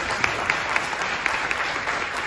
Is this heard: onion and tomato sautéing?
no